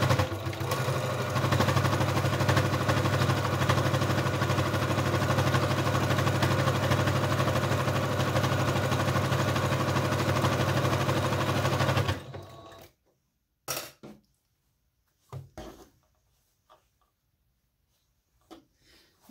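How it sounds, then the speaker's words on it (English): A sewing machine stitches fabric lining for a book sleeve, running loud and steady for about twelve seconds before stopping, followed by a few brief handling clicks and bumps in near silence. "You always want to lock your stitch when you're doing sewing like this."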